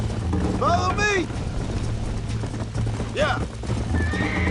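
Horse galloping with clip-clop hooves and loud whinnies in the Red Dead video game, two neighs close up over steady hoofbeats, with voices talking over the action.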